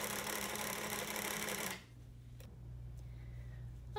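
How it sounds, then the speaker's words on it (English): Sewing machine stitching around the outer edge of a quilt-as-you-go zippered pouch makes a loud, steady mechanical whir, close by, that stops abruptly partway through and leaves a quiet low hum. "I am going to sew around the outer edge"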